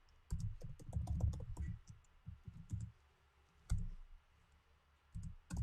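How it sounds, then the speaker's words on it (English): Fingers typing on a computer keyboard nearby, with irregular bursts of soft clicky keystrokes separated by brief pauses, heard alone. "Let me type this in here."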